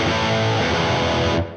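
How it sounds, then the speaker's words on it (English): Electric guitar played through a distortion pedal, a loud, dense, saturated sustained chord ringing for over a second before cutting off abruptly near the end, with no talk over it. "a distortion just sounds distorted on its own"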